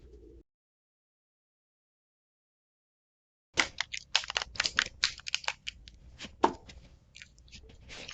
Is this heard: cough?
no